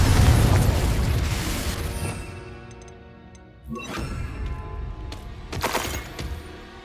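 Confringo spell blasts in the Hogwarts Legacy video game: a loud booming burst at the start that fades over a few seconds, then two more sharp explosive impacts with crackling debris, with no talk.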